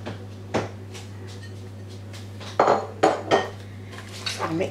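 A spoon clinks and scrapes against a bowl in uneven bursts while cheddar cheese is mixed into macaroni, over a steady low electrical hum.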